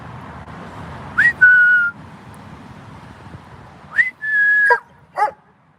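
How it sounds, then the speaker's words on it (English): A person whistles to a dog in cold weather, two short whistled calls each rising then holding a steady tone, with a faint dog whimper and quiet background between them. "It's so cold I can hardly whistle today."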